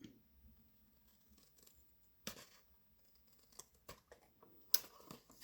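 Stampin' Up scissors snip through a paper card in quiet, irregular cuts, with a few sharper closing snaps standing out over faint handling noise.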